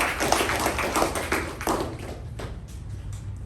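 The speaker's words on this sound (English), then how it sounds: "Let's give a round of applause to her." Scattered clapping from a small audience at a Toastmasters club meeting, a handful of distinct hand claps in the first half that thin out and fade near the end.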